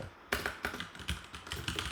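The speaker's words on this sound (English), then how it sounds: "I'm apparently really bad at typing the word castle" Quick, uneven clatter of computer keyboard keys while code is typed during a live coding stream, close up and steady for about two seconds, with no voice.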